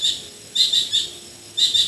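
A bird calls near a small backyard plant nursery in three short bursts of high, quick chirps with pauses between them, clear and fairly close, with no voices.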